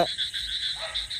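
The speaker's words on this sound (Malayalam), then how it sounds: "തവള കരയണ സൗണ്ട് കേൾക്കാം" Frogs croak in a steady, pulsing chorus at night, close and loud, with a faint low hum underneath.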